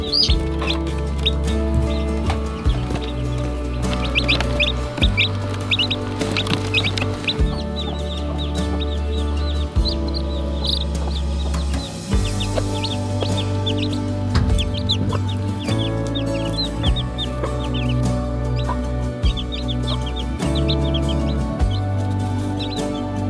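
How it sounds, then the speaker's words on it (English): Over a steady background music bed, a mother hen and her baby chicks cluck and cheep softly and continuously, with small chirps scattered throughout. "It's so amazing watching how Mama and the baby chicks interact."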